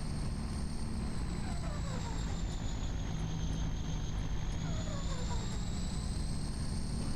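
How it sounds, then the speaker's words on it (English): A truck engine in Farming Simulator 25 idles rough and droning, a steady whining hum with a low uneven rumble underneath, heard close without interruption. "Listen to this truck."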